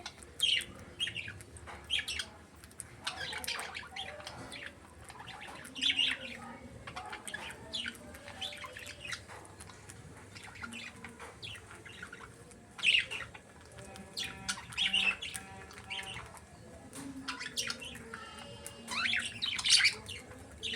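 Budgies chirp and squawk in quick, scattered bursts, sharp high calls coming and going over a quiet background, with occasional wing flutters.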